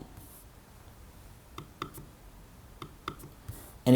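Apple Magic Trackpad 2 with silent clicking turned off, pressed several times in a quiet room, giving a series of faint, crisp single clicks spaced irregularly.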